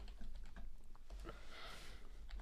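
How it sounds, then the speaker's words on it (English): Quiet typing on a computer keyboard, a quick irregular run of soft key clicks with a brief burst of faster keystrokes, close and alone with no talking. "What am I typing in here"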